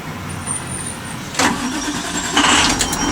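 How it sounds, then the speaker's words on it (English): Diesel school bus engine cranking and catching during a pre-trip inspection, a broadband burst at start-up followed by a steady idle, then a second surge of revving, close and fairly loud. "Start the bus."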